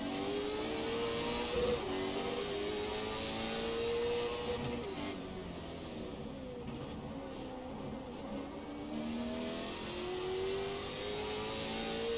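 Race car in a racing video game accelerates on a road course at Charlotte, its engine note rising and falling through repeated revs at moderate, steady loudness.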